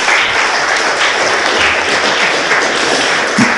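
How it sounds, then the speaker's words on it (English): Audience at a city council meeting applauds award recipient Brevin Manis, a loud, dense, continuous wash of clapping from a crowd filling the whole stretch with no talk. "Give him a round of applause for Brevin Manis."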